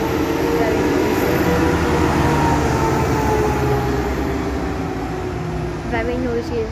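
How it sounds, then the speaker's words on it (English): A very old, noisy minibus approaches along a street, its loud broadband engine rumble and road roar steady throughout, with faint voice-like tones near the end. "Here comes a very old like minibus that's coming to us. Very noisy."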